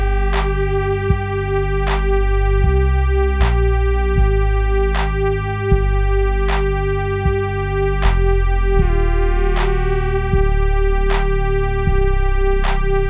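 Deep, sustained synth bass from a track plays alone, with heavy low notes shifting in a slow pattern under a steady high tone and regular bright clicks, loud and continuous.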